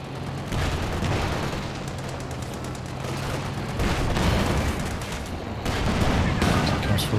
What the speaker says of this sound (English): Dealing with the MG.